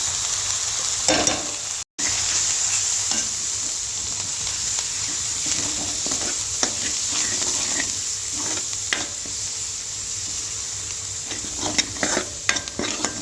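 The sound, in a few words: masala frying in oil, stirred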